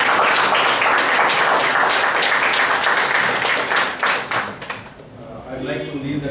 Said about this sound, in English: Let's give the speaker and his organization a good round of applause